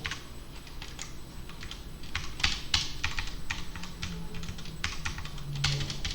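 Typing code on a computer keyboard, with a steady run of quick key clicks and occasional heavier strokes, close and fairly quiet, with no speech.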